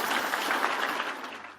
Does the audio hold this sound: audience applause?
yes